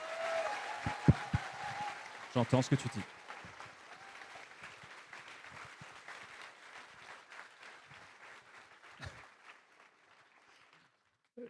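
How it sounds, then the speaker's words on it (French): A lecture-hall audience breaks into a short burst of applause, loud at first and then thinning into scattered clapping that fades out, with a few voices talking over it. "on va se faire un petit applaudissement"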